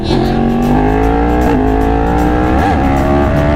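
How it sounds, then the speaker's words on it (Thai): A Yamaha R1 motorcycle engine revving hard and close, one continuous loud howl that climbs and wavers in pitch, heard alone without talk. "มาขับ R1 กัน"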